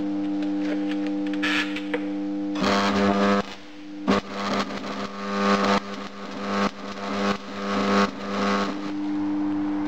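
An AC arc welder converted to DC output with a smoothing choke, burning a steady loud buzzing, crackling arc that sputters and surges in repeated bursts, heard alone.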